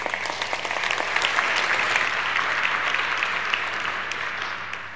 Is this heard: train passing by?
no